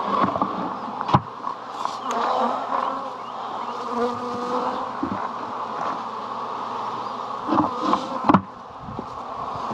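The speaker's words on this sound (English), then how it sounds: "So this is around 2 cups of bees, you can see." A loud humming buzz of honey bees poured into a mini mating nuc, close up, with a few sharp knocks and bumps of the box and low voices talking over the swarm.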